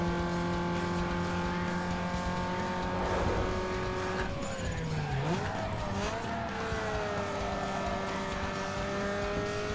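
Race cars, including a Miata, in Need for Speed Underground 2, a loud continuous engine drone with steady whining tones that bend and swoop through gear changes, and tire squeal partway through.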